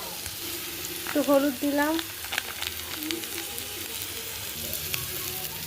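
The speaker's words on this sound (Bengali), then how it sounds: "পেঁয়াজ কাঁচা লঙ্কা সব দিয়ে দিয়েছি, ভালো করে কষিয়ে নেব।" Onions and green chillies sauté in a pan with a steady soft sizzle and occasional stirring clicks, while someone talks briefly over it near the start.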